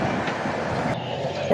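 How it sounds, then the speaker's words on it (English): A southbound Canadian National freight train of mostly tank cars, with two lead locomotives and a mid-train DPU, rolls past on the Leithton Subdivision in West Chicago, Illinois, a steady close rumble with no talk. "2 lead locomotives, 1 DPU in the middle, southbound mostly tanker train"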